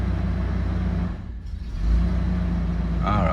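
A 2002 Toyota 4Runner with multiple cylinder misfires idles close by, a low, uneven rumble that dips briefly in the middle, and a short whine appears near the end.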